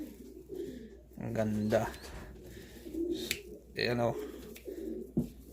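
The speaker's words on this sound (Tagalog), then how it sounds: "So napakalaking ibon din." Large young pigeons coo in low, throaty bursts close by, two or three rolling calls separated by pauses, while a person talks softly in between.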